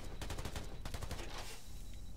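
Rapid gunfire in the video game Black the Fall shooting at a box, a close burst of repeated sharp shots for about a second and a half, then a quieter pause.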